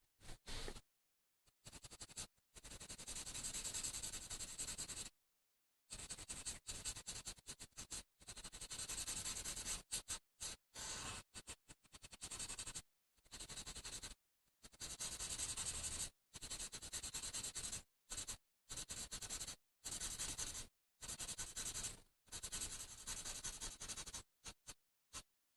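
Pencil shading on paper to fill in a drawing, close steady scratchy rubbing strokes in long bursts separated by brief pauses, continuous and alone without any voices.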